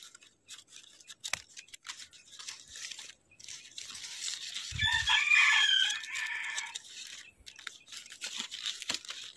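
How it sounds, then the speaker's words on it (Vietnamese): Free-roaming neighbourhood chickens, some caught as jungle fowl, scratching around durian tree roots on a farm; scattered clucks and rustles build to one loud rooster crow in the middle, then fade back to intermittent quiet clucking. "Đây cũng gà hàng xóm sang bươi gốc của sầu riêng nhiều quá chị."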